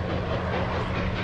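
Rio Grande Scenic Railroad passenger train out of Alamosa in the San Luis Valley rumbles steadily with a dense, continuous rolling roar, loud and close, with no voices.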